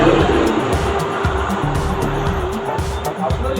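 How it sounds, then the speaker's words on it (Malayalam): Cars and other vehicles pass along a road, a steady, loud rush of traffic and tire noise with engines droning continuously throughout and no pauses. "നിങ്ങൾ ഈ റോഡിലൂടെ പോകുന്ന വാഹനങ്ങളുടെ കാഴ്ചകളൊക്കെ ഒന്ന് കാണാം."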